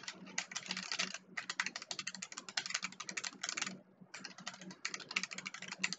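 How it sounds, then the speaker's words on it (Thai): Rapid computer keyboard typing heard through a Logitech G435 wireless gaming headset microphone, a steady run of close, crisp key clicks with a couple of brief pauses, no voices. "เริ่มจากคลิกคีย์บอร์ดก่อนนะครับ"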